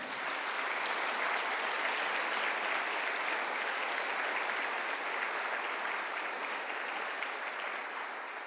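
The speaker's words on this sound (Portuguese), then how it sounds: "Agora dá um aplauso ao Senhor com essas mãos." A church congregation applauds at a service, a broad, continuous roar of many clapping hands sustained evenly for several seconds and fading slightly at the end.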